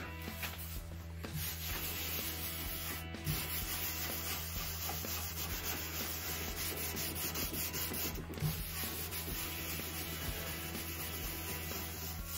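A pad rubbed steadily over a wood surface during French polishing, filling the pores and lightly sanding, giving a continuous close scratchy friction with faint rhythmic strokes throughout.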